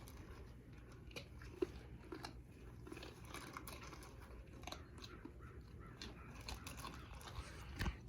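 A big dog crunches and chews dry food at close range, a faint, irregular run of crisp bites and munching over a low background with no speech.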